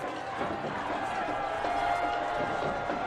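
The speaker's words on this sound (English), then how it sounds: "The Spartan fans being as loud as they possibly can" A high school varsity football crowd on the Spartan side roars steadily in the stands with a broad continuous wash of cheering and shouting, late in a close game, with a commentator's voice faintly beneath.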